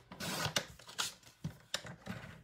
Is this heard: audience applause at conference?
no